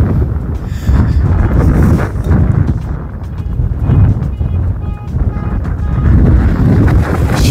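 Strong wind roars and buffets continuously, loud and rumbling, gusting up and down with no voices.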